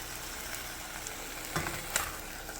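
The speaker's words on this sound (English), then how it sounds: "we're going to be ready here to flip these burgers over" Smashburger patties fry on a hot griddle with a steady, quiet sizzle, broken by a couple of brief scraping clinks from a spatula.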